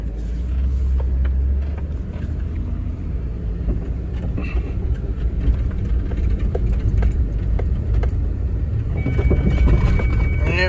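Steady, loud car driving on a test drive with a left rear wheel ABS fault, a continuous low road and engine rumble with occasional light rattles and clicks throughout, no talking.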